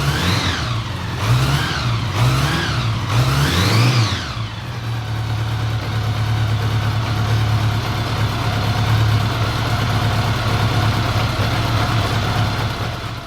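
A Honda Goldwing motorcycle engine running on bigger carburetor jets revs up and down in four quick rhythmic blips, then settles into a steady, even idle, loud and close.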